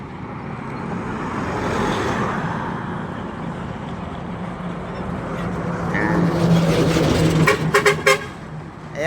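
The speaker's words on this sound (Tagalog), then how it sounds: "Ayan naman ang yung mga truck na yan, yung mga basura na yan, basurero yan" Garbage trucks rolling past on a city street, a broad steady traffic rumble with a low engine drone building toward the end, joined by brief sharp horn-like toots near the close.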